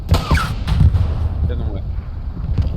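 Tank cannon fire in a tank combat video game, sharp booming shots and blasts landing amid a player's excited talk, several bursts over a few seconds.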